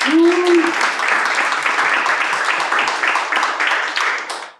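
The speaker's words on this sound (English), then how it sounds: "Can we give them a round of applause?" An audience at a Women's Day event claps for teachers, a brief vocal tone at the start before a loud, steady burst of many hands that tapers off at the end.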